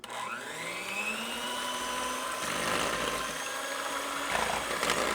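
An electric mixer whirring through vanilla pudding mix for a chocolate eclair cake, a steady close motor drone with rising and shifting pitch as the beaters work the batter, with no talking.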